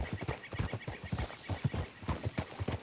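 Horse hooves clip-clop in a steady, brisk rhythm in Red Dead Redemption 2 as the horse travels with a rider, fairly close and clear, with no talking over them.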